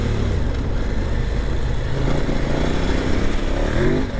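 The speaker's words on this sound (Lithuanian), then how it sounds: "Variklis minkštas, visai įdomiai dirba" A KOVE 800 Adventure motorcycle cruising in third gear at low revs gives a steady, smooth engine drone mixed with wind rush, loud and continuous with no talking.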